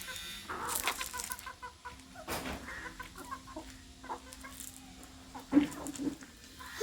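Backyard hens cluck intermittently at close range, with short broken calls and a couple of sharper squawks near the end, set against a light outdoor background.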